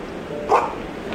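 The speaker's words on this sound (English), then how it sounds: "He ran about the room barking loudly" A single short, sharp dog bark rings out once, mid-level and close, over a steady hiss of background noise with no talking.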